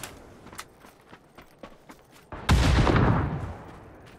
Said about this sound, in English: Throwing another nade off to the right and left.